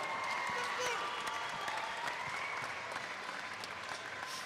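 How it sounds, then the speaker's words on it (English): A crowd at a combat sports event applauds two fighters, with steady, dense clapping and some cheering heard at a distance under a faint, echoing announcer's voice. "let's give these two fighters one round of applause."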